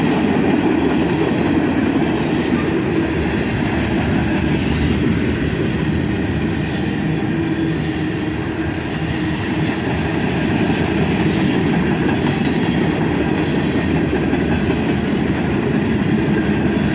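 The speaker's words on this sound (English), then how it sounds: "A manifest train with a little bit of everything on board." Northbound manifest freight train led by ET44AH locomotives rolling steadily past a crossing in Carlisle, with tank cars and auto racks in its mix; a continuous loud rumble and rhythmic wheel clatter fill the whole stretch, no voices.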